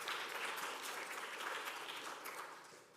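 A round of applause from a church congregation at a worship service, a steady, even wash of many hands clapping that holds throughout and tapers slightly at the end, heard at a distance and fairly soft.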